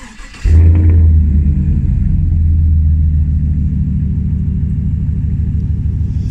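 A 5.3 V8 truck with shorty headers and an Outlaw exhaust is remote started, a sharp crank that catches into a loud, deep, steady idle rumble close by.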